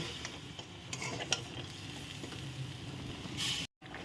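Potato curry frying in a pan with coriander and cumin powder, a soft steady sizzle under repeated scraping and stirring strokes, quiet and close.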